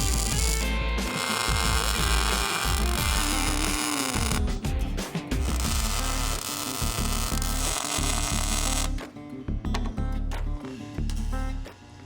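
Tack welding steel plates to a Honda Civic floor for a rally roll cage makes loud, close bursts of harsh buzzing crackle that stop and restart in several long runs.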